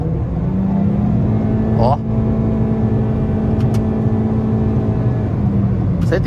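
Toyota Corolla 2.0 2023 accelerating hard on a highway, a steady loud engine drone with rising tonal whine and road roar inside the cabin, someone talking over it.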